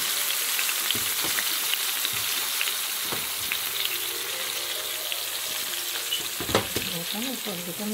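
Marinated chicken drumsticks frying on a stovetop with a steady sizzle, interrupted by a few sharp stirring clatters and scrapes. The frying holds at an even, close level throughout, and no one speaks.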